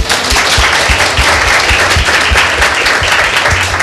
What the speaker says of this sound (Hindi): भाई ताली बजाएं